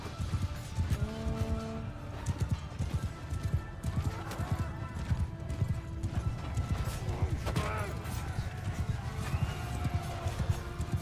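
Cavalry horses gallop in the Mount & Blade 2 Bannerlord video game, a dense rolling clatter of hooves with occasional whinnies and battle clashes, while someone talks over the action throughout.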